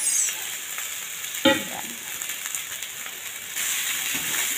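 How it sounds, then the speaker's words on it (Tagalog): Rice stirred into browned garlic in a hot pan gives a steady, close sizzle with scraping stirs throughout and a short spoken word partway through. "Maano na, ma-brown na ang bawang natin. Lagay ang kanin, rice."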